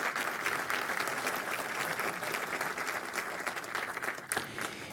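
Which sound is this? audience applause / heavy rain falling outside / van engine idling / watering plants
audience applause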